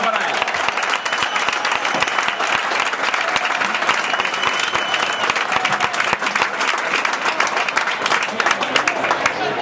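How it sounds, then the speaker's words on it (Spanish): Sustained, loud crowd applause for the speaker at a town festival proclamation in Leganés, steady dense clapping with crisp individual claps throughout nearly ten seconds. "Un aplauso para él."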